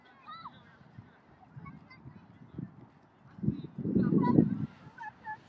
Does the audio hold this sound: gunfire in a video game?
no